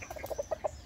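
Chickens cluck in a short burst of rapid, close calls while being fed at a farmyard, with faint rustling and no talk.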